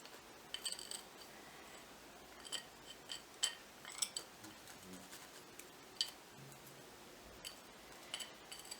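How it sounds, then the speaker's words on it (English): Scissors snip paper while trimming the edges of a handmade DIY coaster, giving faint, close, irregular clicks and crisp cuts against a quiet background. "Make sure you don't cut too much off"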